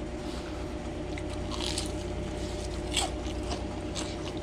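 Close biting into crispy homemade battered walleye fish and chips, with several sharp crunches and crackles over a low steady background hum.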